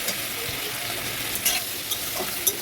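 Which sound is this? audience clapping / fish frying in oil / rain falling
fish frying in oil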